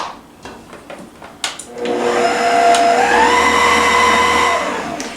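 An electric mixer beats flour into a sugar and egg mixture for chocolate chip bars; after a few light clatters its steady whirring whine starts up and holds, rising slightly in pitch, loud and close.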